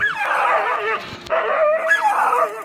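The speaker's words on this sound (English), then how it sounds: "this dog immediately goes into defense mode and starts barking to keep the wildcat" A dog barks and yips in quick, agitated bursts at a leopard, close and loud, with whining tones between barks.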